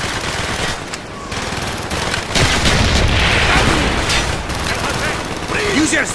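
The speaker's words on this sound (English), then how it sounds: "Firing mortar!" Mortar and rapid gunfire in Call of Duty Black Ops, a dense, loud barrage of shots and booms with shouted voices mixed in throughout.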